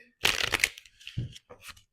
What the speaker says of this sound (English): I'm shuffling. I'm going to take out some oracle cards.